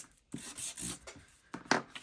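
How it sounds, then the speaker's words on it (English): Paper tags for a junk journal are sanded along their edges, giving several short, quiet scratchy rubbing strokes in a close, otherwise silent room. "a little bit of sanding"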